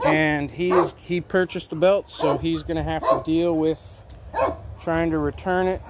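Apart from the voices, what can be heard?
rescue dog barking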